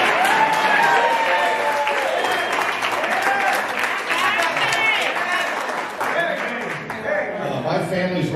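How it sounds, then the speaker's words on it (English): Party guests at a 60th birthday celebration applaud loudly and continuously, close and full, with whoops and voices layered over the clapping throughout. "Let's give her a round of applause."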